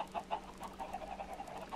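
A Minecraft chicken clucks in short, soft repeated bursts, several quick clucks over a low steady game background with no talking.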